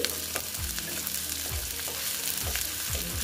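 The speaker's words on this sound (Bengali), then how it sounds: "পেঁয়াজটা আমি ভালো মতন ভেজে নিচ্ছি" A steady, crackling sizzle of onions frying on low heat in a pan for a taro-stolon dish, with occasional low scraping strokes as they are stirred.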